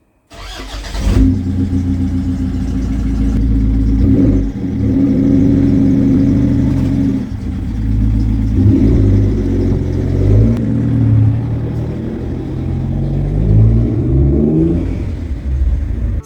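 MG ZT car on a short test drive around an estate after rear suspension arm work, with a close, steady engine rumble that rises and eases as it accelerates and slows, with no one talking.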